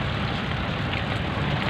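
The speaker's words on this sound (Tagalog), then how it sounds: "Dahil umuulan," Steady rain falls during a rainy Monday morning ride in a motor tricycle, a dense broadband hiss with low rumble mixed in, continuous and fairly close, with no talking.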